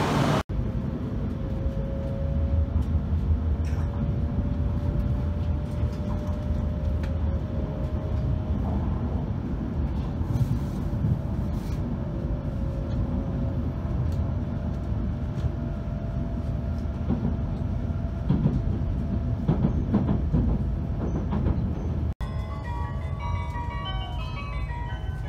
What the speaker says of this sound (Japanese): 7時56分、 東京駅を発車します。